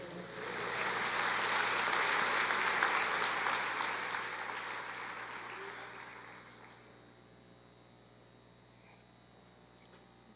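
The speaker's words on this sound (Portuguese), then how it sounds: "Você pode aplaudir o Senhor?" Church congregation applauding the Lord during a seminar on the Book of Revelation: a dense, steady wash of many hands clapping that swells, holds for several seconds, then fades away into quiet room tone.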